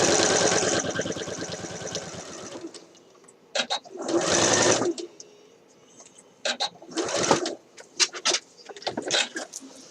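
Sewing machine stitching darts on a Simplicity 8014 shirt dress, a rapid mechanical whirring run at the start, then several shorter bursts of stitching separated by quiet pauses.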